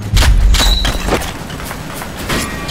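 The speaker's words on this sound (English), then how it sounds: "Get down! Grenade!" A grenade blast in the video game World War Heroes, a loud booming hit right at the start followed by scattered gunfire pops and rumbling tail that fades under distant shooting.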